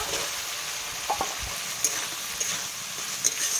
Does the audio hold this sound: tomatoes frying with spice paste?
yes